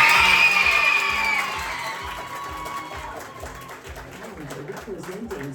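Audience at a junior tourism ambassador pageant applauds and cheers for a contestant, loud at first with whoops and crowd noise, then fading into a steadier, softer crowd murmur.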